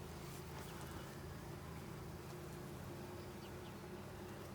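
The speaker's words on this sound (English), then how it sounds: "mostly all worker bees." Dense, steady hum of worker honeybees swarming an opened hive during an inspection, a continuous close drone that holds level and fills the whole stretch with no talking.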